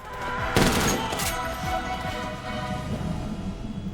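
Rifle gunfire in an action scene from the film Equilibrium, likely 5.56 rounds, with a dense, rapid string of overlapping shots and a couple of louder bursts, close and continuous throughout.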